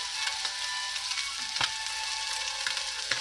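Chicken sizzles steadily in a hot pan, a continuous close crackle with occasional sharper pops and spits and no talking.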